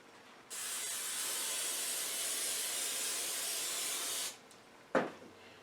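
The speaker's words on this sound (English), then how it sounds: "I'm going to spray these." Cooking spray hissing from a can onto biscuits in a muffin pan, one steady close spray lasting about four seconds, followed by a short clunk of the can or pan.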